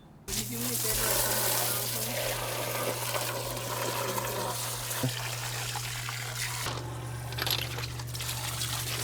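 Water from garden hoses rinses sludge out of a backyard pond during spring cleaning, a continuous close splashing hiss over a steady pump hum, with voices talking in the background.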